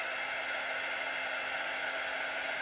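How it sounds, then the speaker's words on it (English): A low pressure heat gun drying alcohol ink blows a steady, even rush of air with a faint motor whine, close and continuous with no talk. "then use a low pressure heat gun"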